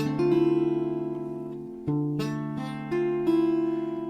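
Sustained guitar chords ringing with the low open E (sixth) string droning underneath, restruck a few times across the clip, clean and close with no talking.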